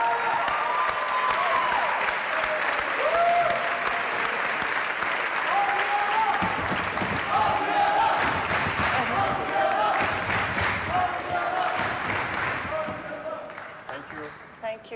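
Studio audience applauding loudly and steadily on a Turkish TV game show, a dense sustained clatter of clapping with voices mixed in, tapering off near the end.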